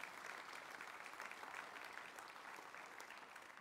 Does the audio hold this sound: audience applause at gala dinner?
yes